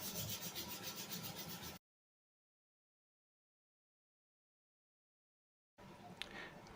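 A wooden rifle stock from a .303 British rifle is hand-sanded between finish coats, giving a close, rhythmic rubbing scratch in brief stretches at the start and end, separated by a long silence.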